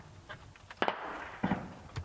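Several sharp cracks from Kalashnikov machine gun fire, a few spaced bursts sweeping across positions, echoing at a moderate distance with no voices.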